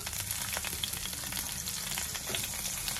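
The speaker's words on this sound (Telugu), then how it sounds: "ఈ మజ్జిగ మిరపకాయలు, కరివేపాకు వేసేసుకోవాలి. ఇవి ఫ్రై అవ్వాలి." Green chillies soaked in buttermilk and dried, plus curry leaves, fry in hot oil with mustard and cumin seeds in a kadai, a steady close crackling sizzle with scattered pops throughout, no voices.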